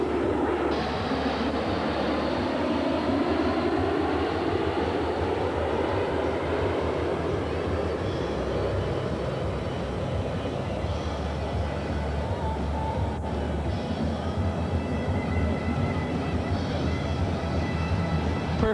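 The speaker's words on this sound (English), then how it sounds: "Coming up will be a couple of flybys by Federal Express." A Federal Express plane makes a flyby, its engine roar sweeping in pitch as it passes, then continuing as a steady distant rumble for the rest of the stretch.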